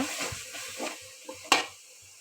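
Biryani masala and chili powder being sautéed in a pan, heard as a few soft scrapes and stirs over a low sizzle, with one sharper clatter partway through.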